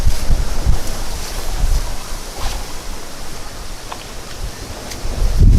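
Strong wind buffets the microphone on the water during a fishing outing, a steady broadband roar with heavier low gusts near the start and end, no voices over it.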